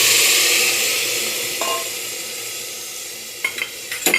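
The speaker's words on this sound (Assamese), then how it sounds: "এতিয়া পানীখিনি দি দিম।" Water goes into a pot of frying rice for pulao and sets off a loud, hissing sizzle that slowly fades. A few stirring clinks against the pot follow near the end.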